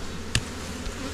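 Bees buzz steadily at low volume around a beekeeper working an open hive, lifting and checking frames of food and pollen, with one brief sharper knock or burst partway through.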